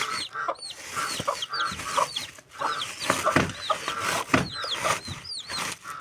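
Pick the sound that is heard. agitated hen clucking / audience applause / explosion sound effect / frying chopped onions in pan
agitated hen clucking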